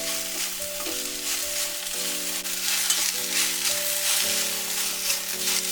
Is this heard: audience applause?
no